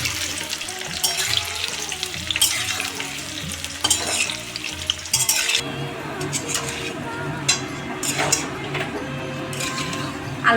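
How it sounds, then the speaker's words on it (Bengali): Potatoes fry and get stirred in a home pan for a Janmashtami meal, a steady crackling sizzle with scraping spoon strokes. A sink tap runs with splashing water partway through. "আলুটা ভাজা হয়ে গেছে"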